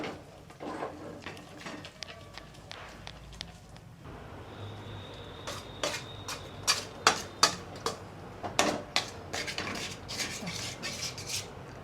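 A spoon stirring and scraping milk powder into a kesar peda mixture in a pan, with close, irregular clinks and taps of metal against the pan, sharper toward the end.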